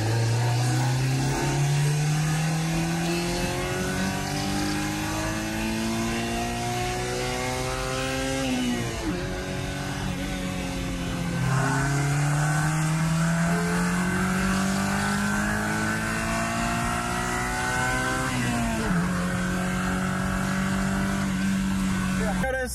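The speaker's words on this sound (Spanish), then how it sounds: "vamos a probar el Porsche para ver qué tal se siente en la calle" A Porsche fitted with a Honda engine accelerates hard along a street, the revs climbing through the gears in rising sweeps, each cut off by a brief dip at the shift, loud and close.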